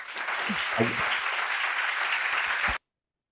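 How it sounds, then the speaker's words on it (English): Audience applause at an international summit after a guest is thanked: dense, fairly loud clapping that holds steady for under three seconds and then cuts off abruptly to silence. "A big applause, please."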